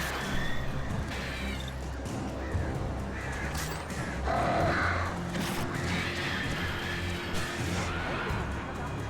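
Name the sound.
attacking birds in the Alan Wake Remastered video game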